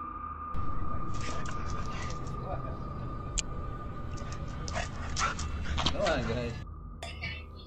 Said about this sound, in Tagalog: Ang bidyong ito ay nagpapakita ng isang aso na nasa bakuran.